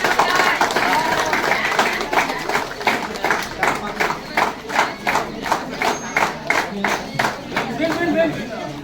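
A crowd of women claps together at an honouring ceremony, loose applause at first that settles into steady rhythmic unison claps, loud and near, with chatter and a voice talking over it.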